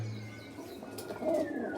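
Pigeons kept in a loft, with low soft cooing near the start and a brief brighter call later over faint background hum; no talking.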